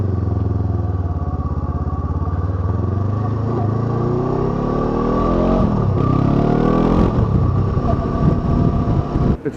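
A motorcycle on Shinko 705 tyres pulls away and rides through town on wet roads, its engine loud and close with a rising drone as it revs and shifts, and a rough clatter near the end.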